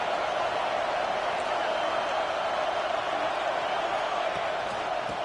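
A football stadium crowd at USC vs Oregon roars steadily behind the defense on a big third down, a dense, sustained wash of cheering that never lets up.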